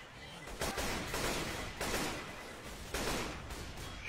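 Video game gunfire in repeated loud bursts spaced about a second apart, with a dense noisy backdrop and no speech over it.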